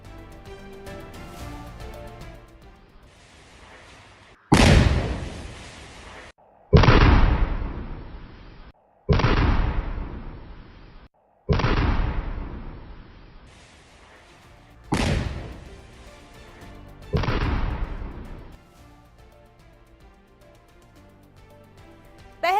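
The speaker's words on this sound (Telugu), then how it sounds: "ఐఈడీ బాంబును అమర్చి ధ్వంసం చేశారు" A house rigged with an IED bomb by soldiers in Jammu blows up in a series of heavy booming blasts, six or seven loud detonations spaced a few seconds apart, each decaying into a rumbling tail.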